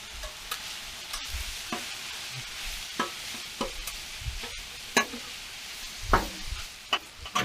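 Shaved steak frying on a Blackstone griddle, a steady sizzle broken by sharp scrapes and taps of a spatula chopping the meat apart, close and unaccompanied by talk.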